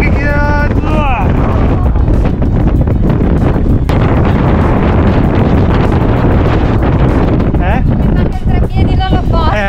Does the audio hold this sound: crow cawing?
no